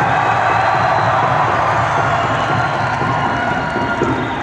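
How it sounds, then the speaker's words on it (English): Large arena crowd at a heavy metal concert at a civic center in Peoria, Illinois, roaring with continuous cheers, whoops and shouts in a loud, dense, reverberant wash that holds steady throughout. "give yourself a round of applause"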